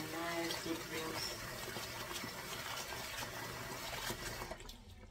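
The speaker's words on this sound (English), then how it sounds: "This is a nice good rinse." Plant roots from a propagation station are rinsed under running tap water, giving a steady, close splashing rush that stops abruptly near the end.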